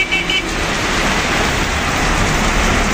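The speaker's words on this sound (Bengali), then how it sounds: "মারাত্মক বৃষ্টি হচ্ছে" Heavy rain pours steadily over a Salt Lake Sector Five street in Kolkata, a loud, dense, unbroken hiss with a faint road rumble beneath and no voices.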